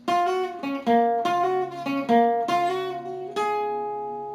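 Electric guitar playing the second part of a solo: a run of clear, sustained picked notes with bends, each attack distinct, ending on a long ringing note, played alone.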